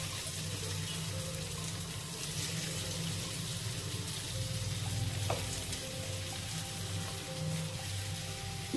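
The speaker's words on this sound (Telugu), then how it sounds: "ఇప్పుడు ఈ ఆలుని ఫ్రై చేసుకోవాలి, మ్యాష్ చేస్తూ ఫ్రై చేసుకోవాలి" Boiled potatoes frying and being mashed in a pan, a steady soft sizzle running throughout with a brief clink of a utensil near the end.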